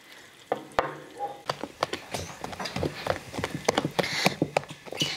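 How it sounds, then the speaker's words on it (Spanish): Food browning in a hot pan sizzles softly while a spoon stirs it with a quick series of sharp scrapes and clicks, close up and growing busier toward the end. "Voy a mover un poquito y aquí la voy a dejar que siga dorando"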